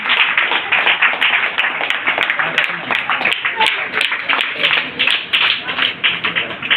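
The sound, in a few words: audience clapping for a prize winner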